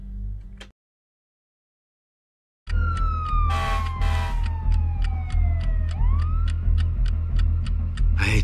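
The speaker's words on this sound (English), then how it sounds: "Sirens." A loud wailing siren sweeps up and down after a brief silence, alongside a rapid repeating tick and a low rumbling hum.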